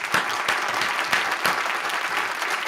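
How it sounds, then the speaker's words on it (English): Steady crowd applause for a football predictions contributor on a Premier League and FA Cup preview show, dense and continuous throughout with no talk over it. "Clap hands for Lutata"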